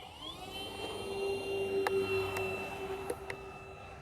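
An FMS F4U Corsair 1.7m RC model warbird with a new propeller starts its takeoff run from grass, its electric motor whining at a steady, rising pitch, fairly faint, with a few sharp clicks.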